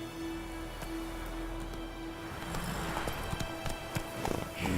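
Roach, the horse in The Witcher 3, galloping with a rhythmic run of hoofbeats over a steady ambient hum, the thuds growing louder and more pronounced toward the end.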